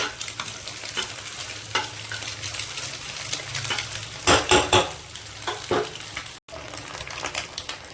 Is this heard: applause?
no